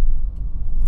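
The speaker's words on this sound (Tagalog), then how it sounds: "Traffic na. Simula na ang traffic." Loud, close low rumble of cars in slow road traffic near the Tagaytay flyover, heard briefly from inside or beside a vehicle with no talking.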